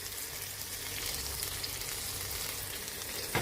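Fish frying in hot oil, a steady close sizzle with fine crackling throughout and a brief louder spatter near the end, no voices.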